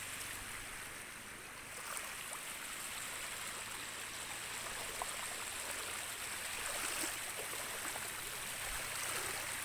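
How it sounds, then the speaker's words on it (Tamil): Small river stream flowing, a soft continuous watery rush heard at a distance under faint outdoor ambience, without speech. "இது ஒரு ஆறு, சின்ன ஆறுங்க."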